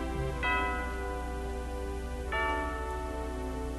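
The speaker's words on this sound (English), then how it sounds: "church tower tells us the hour of day and the brevity of life by playing some Genevan psalm" A church tower's bells play a Genevan psalm in a Dutch city, two clear ringing strikes spaced about two seconds apart with long sustained tones, moderately distant, over a steady low hum.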